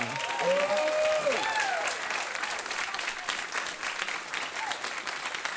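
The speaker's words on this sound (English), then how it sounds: "can we just give a round of applause for Morton Rand?" Audience applause at an AI community meetup in Vancouver, loud and dense from the start, with a few whoops or cheers riding over the clapping early on before it settles into a steady wash.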